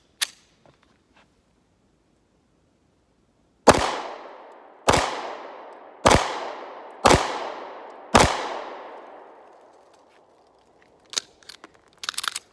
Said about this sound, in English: P365, 5 shots.